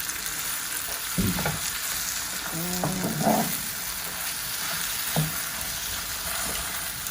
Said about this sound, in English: Okay, so I'm stirring this.